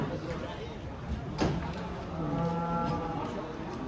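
Humped cattle being unloaded from a truck give a low, drawn-out moo over a noisy outdoor scene, heard close beneath people talking nearby, with a sharp knock partway through.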